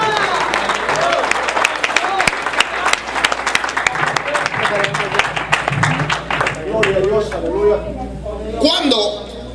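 Church congregation at an evangelistic campaign service claps loudly and fast, a thick rhythmic patter of hands close to the microphone, with a preacher's amplified voice speaking over the clapping and organ-like tones toward the end.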